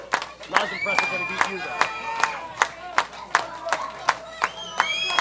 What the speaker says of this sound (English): The crowd firmly behind him.